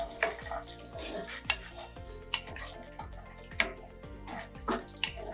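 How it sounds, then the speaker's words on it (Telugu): Cashews and raisins are stirred in melted ghee in a pan, with a metal spoon scraping and clinking against the pan in a regular rhythm over a soft, steady background sizzle. The sound is close and moderately quiet, with no talk. "ఈ నెయ్యి అంతా కరిగాక జీడిపప్పు కిస్మిస్ని దోరగా వేయించుకోవాలి"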